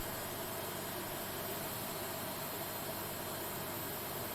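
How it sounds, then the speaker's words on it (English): A jet airliner's engines hum steadily during pushback in a flight simulator game, a constant broadband whine and rumble with no change in level from start to finish. "I really need to get different engine sounds, to be honest."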